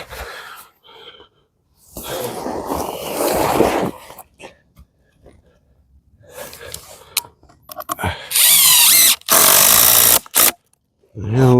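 A power drill drives screws into a temporary treehouse platform in short, loud bursts of whirring between pauses, alongside nearby breathing and movement.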